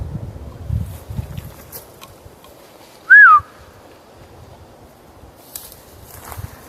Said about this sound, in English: It sounded like a whistle, eh?